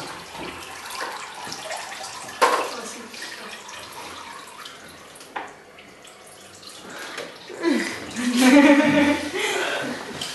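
Water flowing out through straws trickles and splashes at low volume, with a few sharper clinks and a louder gurgling pour near the end.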